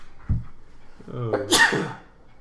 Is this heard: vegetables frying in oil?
no